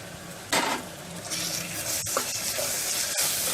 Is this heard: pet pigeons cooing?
no